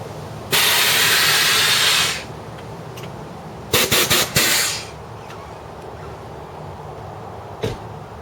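Air ride suspension on a 2002 Chevy Blazer Extreme venting as the truck drops to the ground: a loud, close hiss of released air lasting over a second, then a cluster of short sharp bursts and a final brief puff, with no talking.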